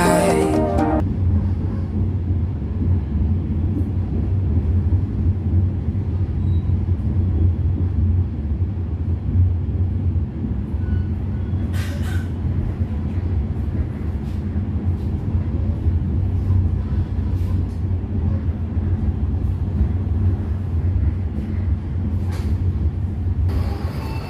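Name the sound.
passenger train running on rails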